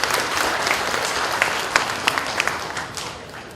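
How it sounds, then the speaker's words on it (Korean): Dense applause from an audience at a citizen monitoring group's launch ceremony in Busan, steady and close throughout with a few sharper individual claps standing out, no voices over it. "큰 박수 부탁드리겠습니다"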